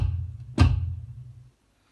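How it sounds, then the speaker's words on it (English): A single kick drum stroke lands midway, a deep, thudding bass hit with a short decay over a faint low tail. "you've got your bass drum or kick drum, which sounds like this"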